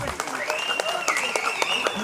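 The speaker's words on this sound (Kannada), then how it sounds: "ಚಪ್ಪಾಳೆ." An audience applauds after a dance performance at a residents' community get-together, with steady, fairly faint clapping under a talking voice throughout.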